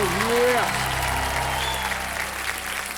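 Studio audience on the Kaun Banega Crorepati quiz-show floor applauds in a loud, sustained wash, with a short vocal call rising at the start before the clapping carries on evenly.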